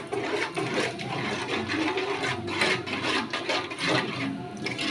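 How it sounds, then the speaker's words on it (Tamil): Tamarind water is poured into a simmering kulambu curry, making a continuous splashing, gushing pour of liquid at close range that swells and eases slightly over a few seconds. "அந்த வாட்டரை நான் வந்து ஆட் பண்ணிக்கிறேன்"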